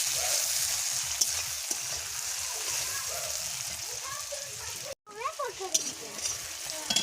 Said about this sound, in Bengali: পেঁয়াজ ভাজা ভাজা হয়ে গেছে, এবার আমি টমেটো দিয়ে দেবো।